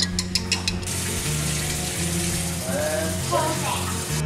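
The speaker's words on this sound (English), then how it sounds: "Alright, cornstarch and water going in." Cornstarch and water poured into a skillet of blackberry cobbler filling on the stove, a short run of clinks followed by a steady liquid pour and faint bubbling, close and fairly loud, with no voices.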